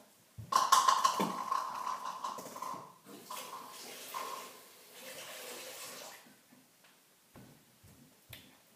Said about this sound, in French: vous pouvez le mettre sous l'eau sous l'eau froide pour que ça aille plus vite